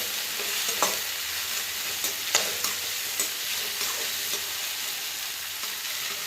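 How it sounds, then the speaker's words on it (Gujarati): A potato mixture for batata pav is slowly stirred in a pan over medium flame: a steady sizzle broken by several soft spoon scrapes, close and without talk. "ધીમે ધીમે હલાવતા જવું જેથી કરીને નીચે બેસી ના જાય."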